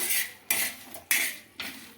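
Fried whole spices being scraped out of a pan onto a plate, four loud close metallic scrapes in an even rhythm, each fading quickly.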